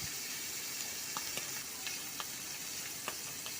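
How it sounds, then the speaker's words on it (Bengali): Rohu fish pieces fry in hot oil in a pan, a dense steady sizzle with scattered sharp crackles and pops, close and alone. "মাছগুলো ভাজা হইতেছে, উল্টে উল্টে সুন্দর করে বাইজা"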